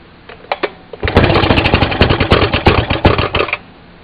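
The old gas kickstart engine of a restored Maytag 92 washing machine fires with a few loud pops. It then runs at a fast, loud, close chugging beat for a few seconds before stopping abruptly.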